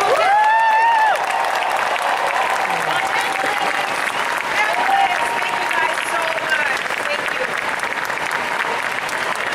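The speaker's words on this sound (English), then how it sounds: "Give another applause for this wonderful guest." Big hall audience at a San Diego Comic-Con 2019 panel for Netflix's The Witcher applauds loudly and continuously, a dense sustained roar of clapping with cheers, while a voice briefly carries over it at the start.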